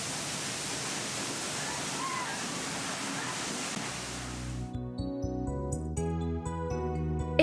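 Large waterfalls roar as a broad, steady rush of falling water for several seconds before giving way abruptly to music.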